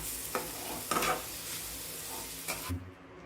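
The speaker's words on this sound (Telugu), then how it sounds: "దీంట్లో 1 కప్ పంచదార వేసుకుని దగ్గర పడే వరకు బాగా కొంచెం ఫ్రై అవ్వనివ్వాలి." Sugar cooking down in a pan for carrot rava laddu, a soft steady sizzle with a few scraping strokes of a spoon stirring, faint and close.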